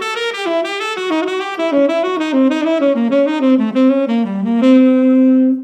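Descending diminished triad arpeggios on guitar, a quick run of clean, distinct picked notes stepping downward and ending on a sustained held note, played alone and close.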